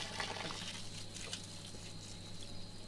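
Rainforest spring water runs into two bottles being filled at once from a natural water pump, a steady near pouring and gurgling splash with faint clinks.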